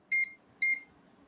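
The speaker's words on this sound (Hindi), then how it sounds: "तो आपको यहाँ पे बीप का साउंड आना चाहिए।" Two short electronic beeps from a multimeter in continuity mode while probing an NTC thermistor, evenly spaced about half a second apart, clear and close with no talk.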